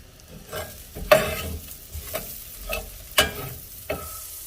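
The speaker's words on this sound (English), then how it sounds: "So I'm going to saute some shallots" One large sliced shallot sautéing in a hot pan, a gentle sizzle punctuated by a few distinct, evenly spaced spatula stirs and scrapes.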